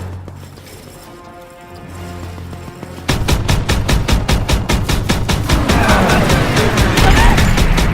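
Bursts of rapid automatic gunfire in Call of Duty WWII during Operation Cobra, starting abruptly after a quiet stretch and continuing as loud, dense, evenly spaced shots with booming low end.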